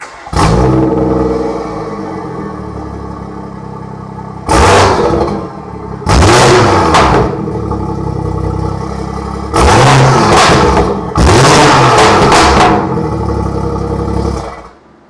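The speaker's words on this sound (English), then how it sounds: "I'll show you what the Remus exhaust sounds like." A BMW M140i with a Remus exhaust, limited-slip differential and stage 2+ tune revs hard several times, each loud rise dropping back with crackling pops and bangs over a deep idle.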